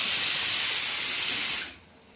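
A pressure cooker boiling potatoes vents steam in a loud, close, rushing hiss for about a second and a half, then cuts off abruptly.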